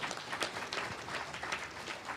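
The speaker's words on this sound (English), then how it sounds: "I think they deserve a nice round of applause." A ceremony audience applauds at a cricket hall of fame induction evening, the clapping dense and steady for a couple of seconds with no voices over it.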